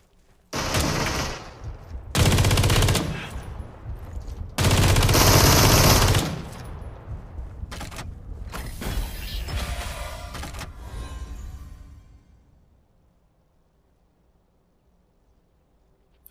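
A gatling gun fires in the video game Super People, with several long, loud bursts of rapid automatic fire separated by short gaps, then shorter clattering bursts and mechanical rattling that fades to near silence.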